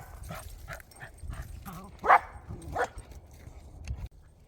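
Dogs whimper, yip and bark in short bursts throughout, with two louder barks standing out midway, heard close by in an outdoor setting.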